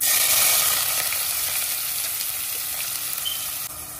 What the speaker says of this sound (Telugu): దాంట్లో 2 ఉల్లిపాయలు, పచ్చిమిరపకాయలు కోసి పెట్టుకున్నాను, అది వేస్తున్నాను